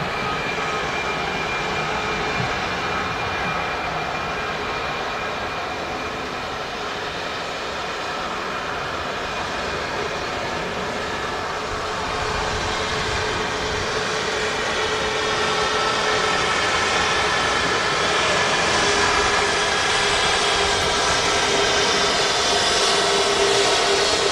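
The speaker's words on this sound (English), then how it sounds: "Golden lighting on this Ryanair as it just caught a touch of the sun as it taxied past us" A Ryanair airliner taxis past at Manchester Airport, its engines producing a steady, broadband jet roar that holds close and loud throughout, swelling slightly toward the end, with no talk over it.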